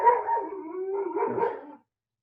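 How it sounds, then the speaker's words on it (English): Dogs howling together, a wavering, drawn-out howl with a rough barking edge, fairly close and loud for nearly two seconds before stopping abruptly into silence. "the dogs are awake"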